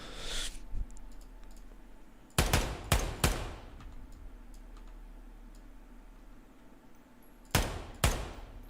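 FAL rifle shots fired in the tactical shooter game Ground Branch, loud sharp cracks in close pairs, one pair early and another near the end, separated by quiet background hum.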